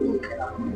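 A single short, low coo comes from a close pigeon, a paired pet bird being handled, loud and alone without speech.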